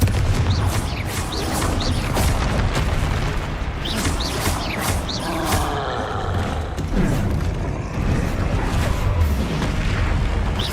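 Confringo fire spells bursting in Hogwarts Legacy, a dense run of booming explosions and pops stacked over a continuous loud battle din, with no talk.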